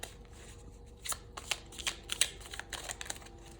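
A small oracle card deck is shuffled by hand, giving soft rapid papery riffles and flicks in uneven bursts, close and quiet, with no voice.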